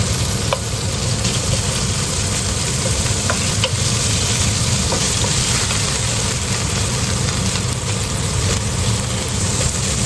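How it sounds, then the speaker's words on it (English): Ground pork stir-fries in a pan with minced ginger and sugar, a loud, dense, unbroken sizzle throughout with faint scattered clicks. "Try to loosen up the ground pork while it's stir fry."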